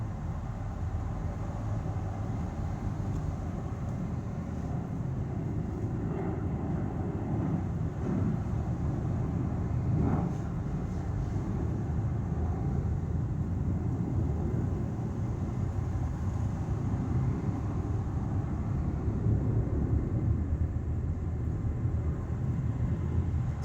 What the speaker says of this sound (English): I'm just gonna record the street noise.